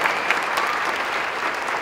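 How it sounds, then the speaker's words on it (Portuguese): Audience applause at a comedy show, a dense, even burst of many hands clapping, loud and continuous with no talk over it. "Uma salva de palmas, senhoras e senhores,"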